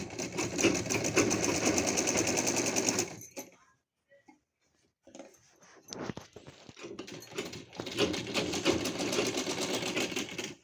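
A sewing machine rattles in two fast, steady runs separated by a quiet pause with fabric handling, stitching the shoulder and armhole seams of a plain net party-wear gown.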